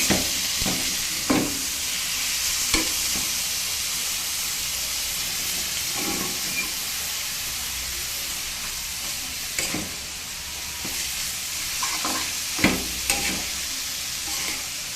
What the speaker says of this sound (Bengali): এবার এটা ভালো করে নেড়ে চেড়ে মিশিয়ে দেবো